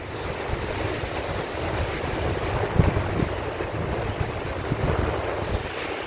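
Sea waves wash onto rocks at Freshwater Bay beach in Wales, a continuous roar of surf mixed with heavy wind buffeting the microphone, with no talk.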